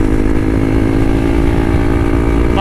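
A Hero Xpulse 200 motorcycle engine runs loud and close in a continuous, throaty buzz that holds steady for a couple of seconds, with no voices.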